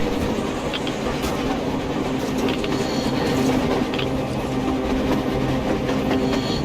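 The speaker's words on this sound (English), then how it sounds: "A train! A damn train on the surface!" Train rolling past in the video game Metro Exodus, a steady rumbling clatter of rail cars with rhythmic clickety-clack and faint wheel squeal, continuous and fairly loud throughout without talk.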